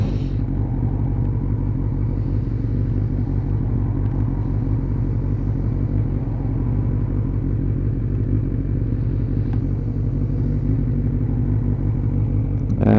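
A carburetted Suzuki Bandit 600 motorcycle on a wet road test ride runs at a steady cruise, its engine a loud continuous low drone and rumble close to the listener, with no talk.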